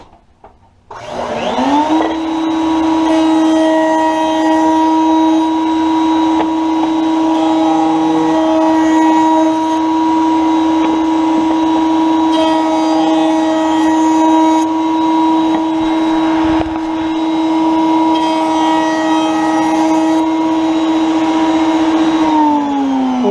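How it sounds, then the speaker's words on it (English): A router on a router table rounds over the edges of a wooden tapered table leg, a loud steady high-pitched whine held for about twenty seconds after a quick spin-up, with slight changes in load as the wood passes the bit. "take it over to the router table. You want to round off all 4 edges."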